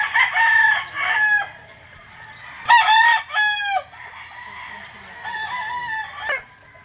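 Several White Kelso gamefowl roosters crow loudly and close by in a few overlapping bursts, with fainter clucking and calls from other fowl between them.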